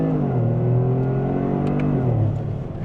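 A 2025 Toyota GR Corolla engine revs steadily as the car accelerates through the gears, a close, continuous rising drone with a slight dip and shift near the end, no voices over it.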